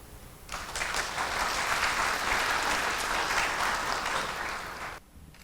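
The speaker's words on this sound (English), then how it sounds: "please welcome former Vice President Vincent Hsu to the stage with this round of applause" Warm round of applause from a conference audience welcoming former Vice President Vincent Hsu to the stage, sustained clapping that swells and cuts off near the end.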